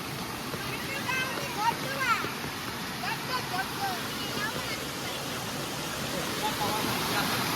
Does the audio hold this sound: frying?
no